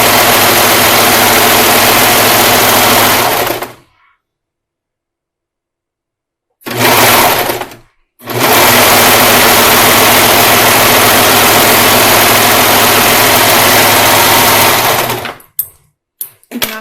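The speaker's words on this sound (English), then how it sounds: "we're going to stitch with a 1/2 inch seam allowance along this back center" A sewing machine runs fast and steady in loud, close bursts, stitching a center back seam with a 1/2 inch seam allowance, stopping abruptly for a few seconds between long stretches.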